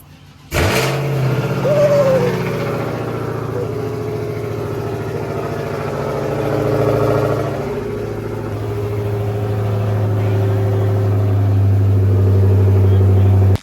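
A tuned Dodge Challenger R/T with a straight-pipe exhaust and no rear mufflers fires up with a sudden loud start, then settles into a deep, lumpy idle with small swells and a heavier rumble near the end.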